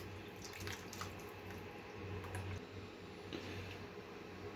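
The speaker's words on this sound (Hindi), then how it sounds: "2 कप हम इसमें पानी डाल देंगे।" Two cups of water poured into a pot of keema and onions cooking on the stove, giving a steady, soft splashing wash throughout, fairly faint and with no talking.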